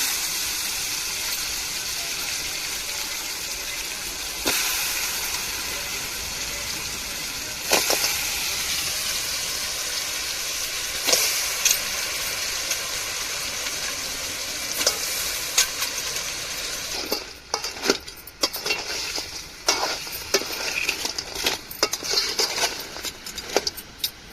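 Crab added to a sizzling pan of ginger and garlic and stir-fried, a steady frying hiss that turns busier and louder with rapid scraping and clattering strokes in the later part.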